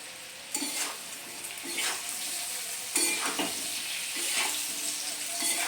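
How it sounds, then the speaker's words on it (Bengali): Aloo katli mixture with green chillies stirred in a pan, a steady frying sizzle with repeated scraping strokes of the spoon every second or so, close and clear with no talk. "আবার আমি নেড়ে দিচ্ছি।"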